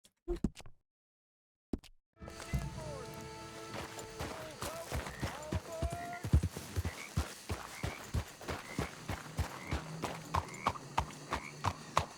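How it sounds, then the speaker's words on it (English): A steady clip-clop of horse hooves in an even walking rhythm in Red Dead Redemption 2, close and clear, after a brief silence, with a soft tonal background underneath. "Horses' hooves, Arthur."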